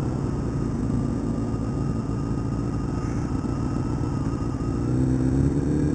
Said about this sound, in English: Another bike. It's bike night.